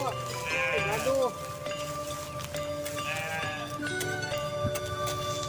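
Sheep on a village farm bleat several times, two clear wavering calls close by, with a voice talking nearby between them.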